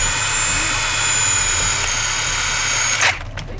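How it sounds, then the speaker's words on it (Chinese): An electric drill spins steadily and loudly for about three seconds while boring into solid wood, then stops abruptly with a brief burst of noise as it winds down. "让我们来试一下这个电钻有多转"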